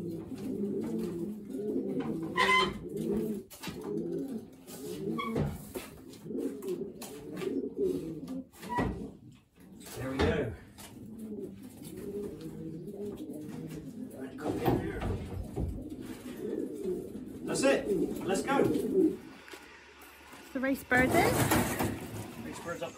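Racing pigeons coo in boxes in low, rolling murmurs nearby during basketing for a race, with someone talking over them and occasional clatter and knocks.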